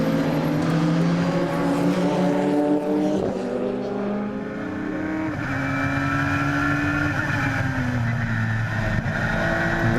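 Race cars in a Supercar Challenge round at Zandvoort circuit sweep past in a close battle, engines roaring loud and near with pitch sweeps as they approach and pull away, continuous throughout.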